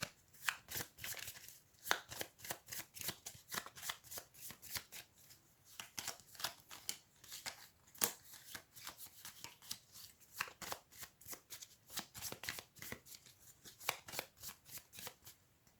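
A deck of board game cards is shuffled repeatedly at close range, a quick run of crisp riffling bursts in an uneven rhythm, quiet and without talk.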